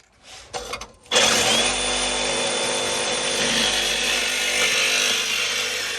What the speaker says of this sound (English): I have a saw saw here that's going to cut all this metal